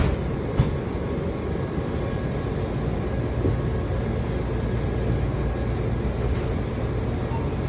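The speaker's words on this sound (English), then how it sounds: "This is a blue line train to Franconia Springfield" A Washington Metro Blue Line train bound for Franconia-Springfield rumbles steadily from inside the car, a continuous loud roar with no talk.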